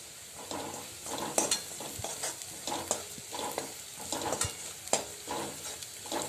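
Spices and methi (fenugreek) greens with onion, chilli and garlic sautéing in a pan, a steady close sizzle with repeated stirring scrapes and soft utensil knocks, no voices.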